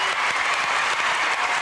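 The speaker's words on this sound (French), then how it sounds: "Applaudissements, mesdames, messieurs, pour Charlie et Patrick" A television studio audience breaks into a short, loud burst of dense, steady applause, with no voices above it.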